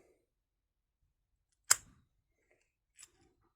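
A Carbine CDEP dual-access padlock gives a single sharp, close mechanical click as its cam turns, followed a moment later by a fainter second click, in otherwise near silence.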